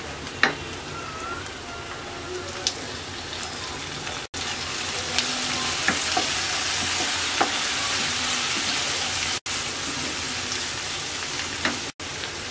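Chopped onion and tomato fry in hot oil in a pan for a lentil and bottle gourd dish, a steady close sizzle with occasional spoon clicks and stirring scrapes running throughout, briefly cut by a few abrupt gaps, no talk.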